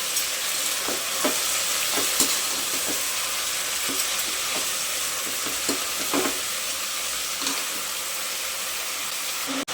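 Ground masala fries with a steady close hiss in a pan for avarekaalu (field bean) pulav, while a spoon scrapes and taps through it at irregular intervals, with no voices.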